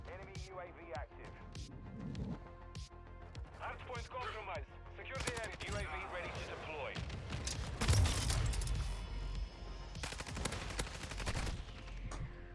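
Lachmann 556 gunfire in Call of Duty Modern Warfare 2, rapid bursts of automatic shots with sharp cracks and heavier blasts, mixed under steady talking and game sounds.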